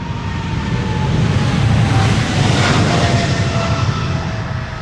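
An airliner in bank robber livery, 18 years old and first flown in March 2007, leaves Amsterdam Schiphol for Canada with a loud, close jet roar that swells and then eases slightly, with no voices.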